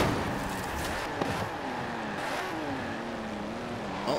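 An Alfa Romeo racing car engine in Forza Horizon 4 drones steadily, its pitch wavering up and down as it revs through a lap, loud and continuous with no talking.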